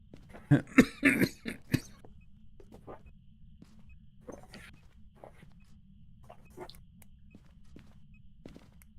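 A burst of several close, harsh coughs early on, followed by quieter shuffling and faint footsteps in a chilly, quiet room at about 44°F.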